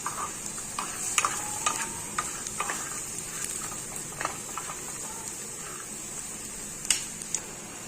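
Potatoes fry in a pan with a steady, bright sizzle, broken by scattered clicks and scrapes as they are stirred, close and at a moderate level.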